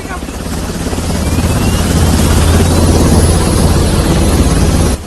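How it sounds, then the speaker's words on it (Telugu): A helicopter's loud, whooshing rotor drone swells over the first second and holds as a dense, close roar until it cuts off. "నన్ను ఎత్తుకుపోవడానికి హెలికాప్టర్ వచ్చినట్టున్నదిరా"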